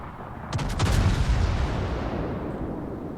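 Warship guns firing in a World of Warships naval battle, a quick ripple of sharp cracks followed by a deep rolling boom that decays slowly into low ambient rumble.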